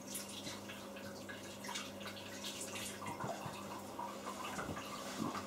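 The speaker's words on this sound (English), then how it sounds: "rinse my hands again" Hands being rinsed under a running kitchen tap while making an ombre cake, a steady close hiss of flowing water with small splashy drips and splatters, no voices.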